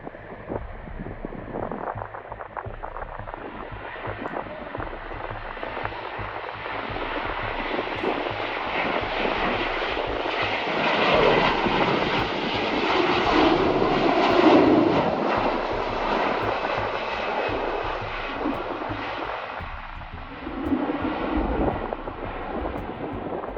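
Douglas MD-82 airliner accelerating down a runway on takeoff, a loud sustained jet engine roar that swells in the middle and stays steady throughout.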